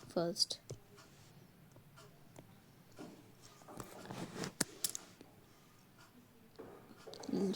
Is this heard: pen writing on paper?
yes